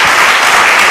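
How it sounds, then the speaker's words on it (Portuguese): Congregation applauding during a church service, loud dense clapping that fills the short moment from start to finish. "Dá uma salva de palmas a Jesus."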